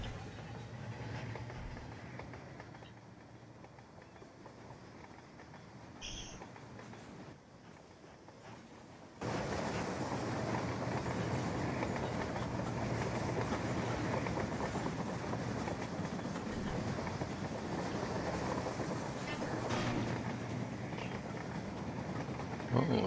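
A model train from the video game Rolling Line runs along its track with a steady rumble and soft clatter, quieter at first and then swelling louder and constant for the rest of the run, with no talking.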